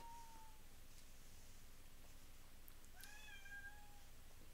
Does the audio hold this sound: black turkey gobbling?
no